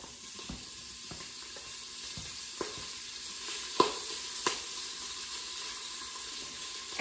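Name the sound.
bacon sizzling in a pot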